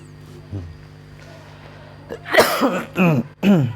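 A person coughs a few times in quick bursts near the microphone, with faint speech-like sounds in between.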